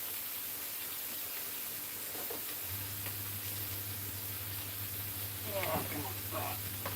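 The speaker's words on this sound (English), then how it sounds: "sizzling!" Burger food sizzles in beef tallow on a barbecue, a constant close frying hiss running throughout, while a voice briefly murmurs near the end.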